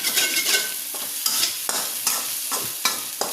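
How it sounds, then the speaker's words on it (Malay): Rice frying in a pan is stirred with repeated scraping strokes in a steady rhythm over a constant sizzle, close and fairly loud, with no voices. "Lepas tu kita sambung kacau lah sampai dia masak."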